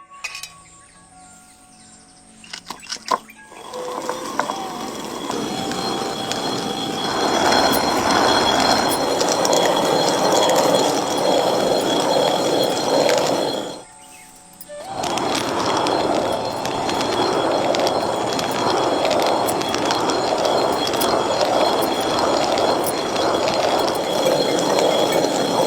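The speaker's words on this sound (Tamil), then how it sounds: "ராகி இப்ப கல்லுல போட்டு நல்லா அரைக்க ஆரம்பிச்சிடலாம்." A stone wet grinder churns soaked ragi (finger millet), giving a continuous rattling, clattering drone that starts after a few seconds of quieter noise, briefly drops away midway, then resumes steadily and fairly loud.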